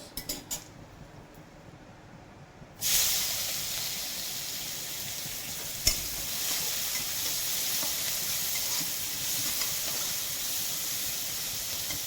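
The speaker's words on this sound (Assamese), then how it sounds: "এতিয়া পিঁয়াজখিনি অকণমান ভাজিব দিম" Oil sizzles loudly as onions hit the pan while making pav bhaji, a sudden hiss that settles into a steady frying crackle with a brief clink partway through.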